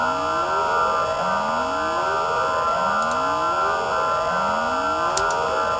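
A synthesized whooping siren built from a Serum preset, its pitch sweeping upward over and over in steady repeating whoops roughly every 1.5 seconds, loud and continuous over a sustained electronic tone.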